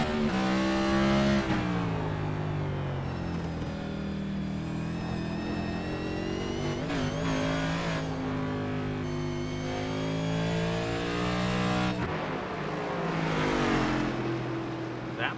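A race car engine in a GEARS Cup Series race at the Charlotte Roval revs up and shifts through gears, each climb in pitch cut by a quick drop, loud and steady with no voices.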